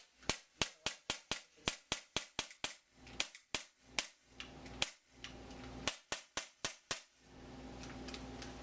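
An ASG CZ75 CO2 blowback airsoft pistol fired in a small cramped corner: a steady string of sharp, snappy pops with clacking slide action, about a dozen shots in quick rhythm, then a few spaced shots before a hiss.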